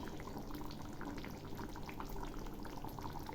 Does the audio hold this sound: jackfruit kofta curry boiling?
yes